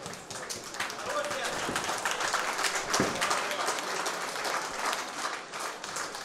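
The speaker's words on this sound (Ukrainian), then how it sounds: "Оплески глядачів." Spectators applaud after a bout at a combat sports tournament, a steady, fairly loud clapping that lasts several seconds while a commentator talks over it.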